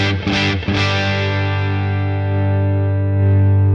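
Electric guitar chords ring out through a Boss Katana 50 Gen 3 amp on an old-school tweed Fender-style model, warm with light grit, a couple of strums followed by a long sustained decay.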